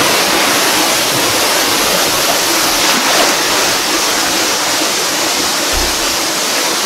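Natao Falls in Sitio Duhatan, Paluan, Occidental Mindoro, pours as a loud, steady, broadband roar of falling water, close and unbroken throughout.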